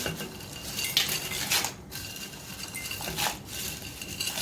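Metallic clinks and scrapes of a utensil stirring ada pradhaman (rice flake payasam) in a pot, steady and close, with a few brighter knocks and no voices.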